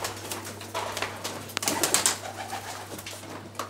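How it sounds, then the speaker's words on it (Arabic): Pigeons coo softly and steadily inside a new loft in Meknes, with occasional wing flutters and small clatters over a constant low hum; no voices. "هانتوما كما كتشوفوا يعني حمام في مستوى جيد، لوفت جديد في مدينة مكناس"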